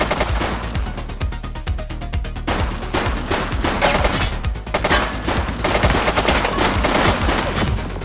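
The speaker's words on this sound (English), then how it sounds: "Shots fired!" Rapid gunfire from a police shootout in The Precinct video game, dense bursts of automatic shots crackling loudly and continuously, with no talk.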